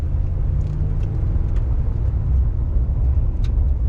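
A pickup truck fitted with a snow plow rolls along a public road after a winter storm, its engine and tires producing a constant low rumble and road noise, with faint high clicks now and then and no talking.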